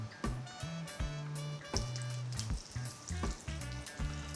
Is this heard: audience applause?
no